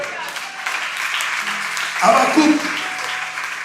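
Church congregation clapping in praise through a French-language service, a steady mid-level patter of hands that swells near the middle while a preacher's voice talks over it.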